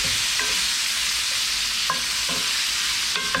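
Meat on the bone searing in a pan for green chile, a steady close sizzle broken by a few brief scrapes of stirring.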